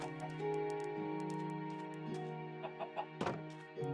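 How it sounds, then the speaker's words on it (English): Blocky, synthesized clucks repeat over a droning, tonal game soundtrack, with a few soft thumps near the end. "eventually I made it up and got the chickens home"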